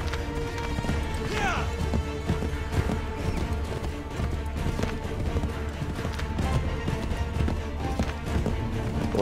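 A horse gallops in the Assassin's Creed III video game, its rapid hoofbeats running continuously within a dense, busy mix of game sound.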